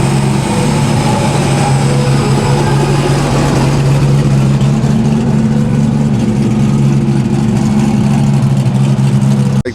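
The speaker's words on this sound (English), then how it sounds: "All the cars are getting ready to leave." Car engines idling together as cars prepare to leave a Tuner Evo meet in Chicago, a loud steady low rumble close by for the whole stretch with no talking.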